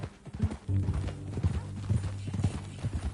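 Horse hooves clip-clop in a steady walking rhythm in the Red Dead Redemption 2 video game, close and moderately loud, with a faint game music bed underneath.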